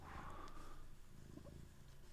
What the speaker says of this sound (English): Oh, just a big loud purr.